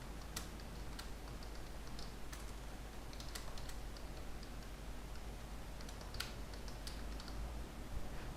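Someone types a comment into Microsoft Word on a computer keyboard, producing scattered, quiet key clicks in an irregular rhythm over a steady background hiss, with no one talking.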